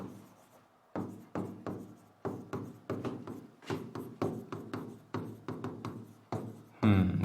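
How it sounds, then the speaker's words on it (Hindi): Marker or chalk writing on a board in a classroom-style lesson, heard as quick, close scratchy strokes in irregular bursts with brief gaps, ending in a louder scrape, and no speech over it. "यहां पे एक बार लिख देते हैं।"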